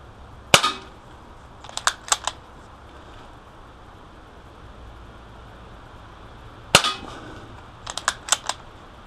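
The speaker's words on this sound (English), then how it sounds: "I'm just going to empty this gun." Gletcher M1891 sawn-off Mosin Nagant CO2 BB rifle fired twice, each sharp crack followed by a few quick metallic clicks of the action being cycled. The shots are close and loud against a quiet room.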